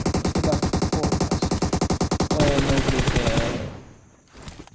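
Rapid automatic gunfire from the mobile shooter PUBG Mobile bursts loud and close in an evenly spaced stream of sharp shots, then gives way to a denser barrage that fades away before a last faint flurry.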